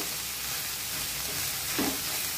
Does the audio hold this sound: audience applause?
no